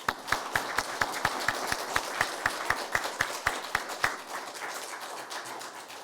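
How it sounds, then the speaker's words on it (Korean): A church congregation at an ordination service in a rural village church in Wando County claps together in a steady, even rhythm for about four seconds, then the clapping stops and faint room noise remains. "우리 한번 박수 한번 할까요?"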